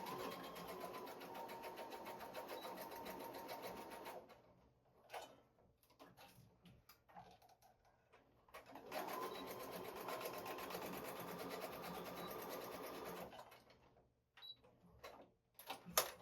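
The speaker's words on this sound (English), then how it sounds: "I have stitched all the way around now" A sewing machine stitches fabric for a DIY wonder-clip holder in two long, steady whirring runs. A quiet pause with small clicks and handling noises separates the runs.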